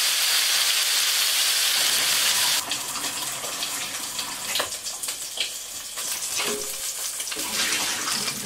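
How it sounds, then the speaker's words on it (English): Gravy cooking in a pan in a farmhouse kitchen gives a steady, bright sizzling hiss with scattered soft pops and bubbling, fairly close and continuous. It eases slightly after a few seconds but keeps going throughout. "That sounds like gravy."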